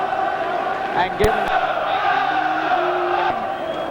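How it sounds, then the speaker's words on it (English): A Sheffield boxing crowd celebrates a home fighter's win, a broad roar of cheering and singing voices filling the hall, with a commentator speaking over it throughout. "this crowd rejoicing in the win, singing"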